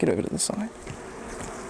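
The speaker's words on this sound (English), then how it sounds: "Shake off a bunch of the bees." Honeybees buzz close by as a full honey frame is shaken free of them at an Australian hive, a steady hum under a man's brief spoken words.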